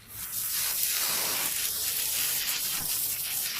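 Sausages sizzle in a hot pan with a steady, loud hissing spray that holds for a few seconds, close and continuous with no talking.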